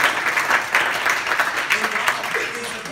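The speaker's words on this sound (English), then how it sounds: "Would you give the Lord a hand clap of praise?" A church congregation claps in praise during a sermon, a lively, continuous crowd of hands with uneven surges and some voices mixed in.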